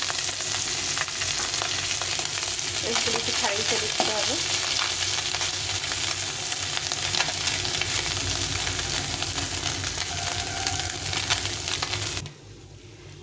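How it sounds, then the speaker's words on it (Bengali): Small chanda fish fry in a pan with only a little oil, turned to cook the other side. They make a loud, steady sizzle with crackling that stops abruptly at the end, and a voice briefly speaks over it. "এখন একটু তেল দিয়ে অপর দিকটা ভেজে নিতে হবে"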